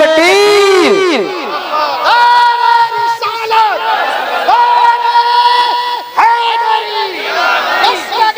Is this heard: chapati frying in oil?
no